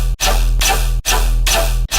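A dense synth bass patch with N-Color and N-Sub layered together, three sustained heavy notes with deep sub rumble and bright buzzing upper tones, separated by brief gaps, loud and close with no talking.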